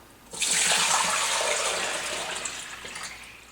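Water poured steadily into a cooking pot, about 12 cups for homemade ballistic gelatin, a loud continuous splashing rush that starts abruptly and slowly eases, with no talk.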